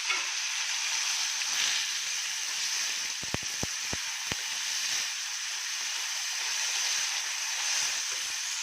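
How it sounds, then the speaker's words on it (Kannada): A tempering of garlic, onion, tomato and curry leaves fries in hot oil, making a steady, close sizzling hiss. A short burst of sharp crackles and pops comes around the middle. "ಒಗ್ಗರಣೆ ಒಳಗೆ ಫ್ರೈ ಆಗಲಿ"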